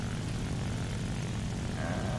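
Hawker Hurricane propeller fighter engine in War Thunder, a steady, dense, loud droning roar that holds constant throughout a couple of seconds with no voices.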